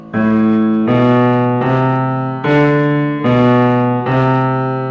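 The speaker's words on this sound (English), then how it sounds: "the second one is quarter note middle voice melody." A piano plays a steady melody of evenly spaced quarter notes in the middle register, six sustained tones in a calm, regular pulse.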